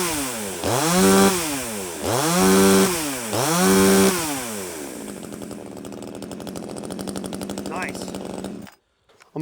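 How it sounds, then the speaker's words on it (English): A warmed-up 26cc Amazon budget chainsaw blips its throttle three times in rising and falling revs, then settles into a rough, steady idle up close before cutting out abruptly. "Let's see how it starts up now that I've already warmed it up a little bit."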